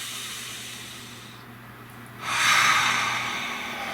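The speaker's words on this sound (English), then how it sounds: "Nice deep breath" A single deep breath taken close to the microphone: a long airy rush that swells, peaks and then slowly fades against a quiet background hum.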